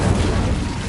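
The Incendio fire spell in the video game Hogwarts Legacy bursts out as a loud, dense whooshing boom of rushing flame that fills the brief moment without pause.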